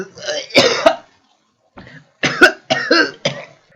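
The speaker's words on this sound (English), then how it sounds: "it's just I've had a bit of a cough lately" A man coughs in several harsh bursts, a short cluster at the start, then three or four more after a pause, loud and close with some throat-clearing quality.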